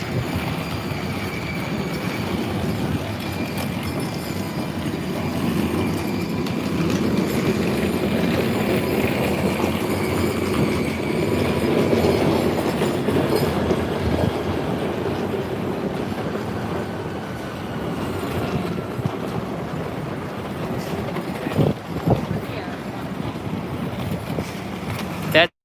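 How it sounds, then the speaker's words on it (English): A subway train rumbles steadily beneath a busy street near Fulton Center in Downtown Manhattan, a low continuous rolling drone with faint squeals, mixed with city noise and people talking. "The subway station right here"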